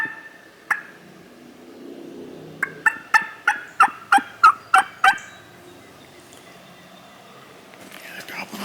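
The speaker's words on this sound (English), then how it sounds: "Yeah, they're gobbling off this ridge" Wild turkeys gobble off an Alabama ridge on opening day after a storm, a rapid run of about eight loud, rolling calls carrying from a short distance, with a single call before it and quiet woods around.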